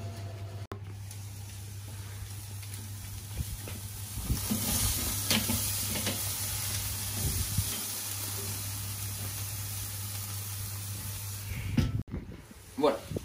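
Côte de bœuf searing on a barbecue grill with garlic and thyme, a continuous close sizzle and hiss with brief rustling and clattering, a low steady hum underneath.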